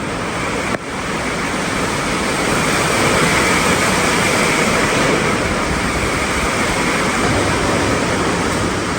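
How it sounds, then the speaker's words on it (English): Steady rain falls outside a garage where shock absorbers are being fitted to a car. It makes a loud, continuous broadband hiss that starts after a brief knock and holds even throughout, with no talk. "Listen to that rain."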